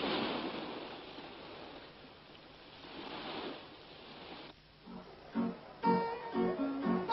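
Ocean surf washes steadily onto the shore as a broad, soft roar, heard alone on an old 1978 documentary soundtrack before some brief louder sounds toward the end.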